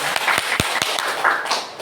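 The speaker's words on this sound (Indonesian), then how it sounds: "Tepuk tangannya mantap." A group claps hands during a classroom teaching demonstration, with several sharp, close claps standing out irregularly over a lighter patter of scattered clapping for a couple of seconds.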